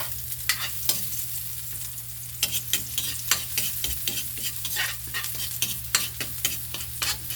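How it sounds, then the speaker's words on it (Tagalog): Onion and garlic sautéing in a pan: a steady hiss of oil with repeated scraping strokes of a spoon stirring at close range, with a low background hum and no talking. "Magigisa na tayo."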